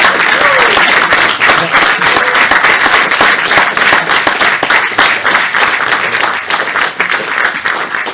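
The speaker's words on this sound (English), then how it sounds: "So I don't know if you want to join me in an applause, but I would appreciate that." An audience at a diploma-awarding closing ceremony breaks into loud, sustained applause, dense clapping that continues steadily throughout and eases slightly toward the end.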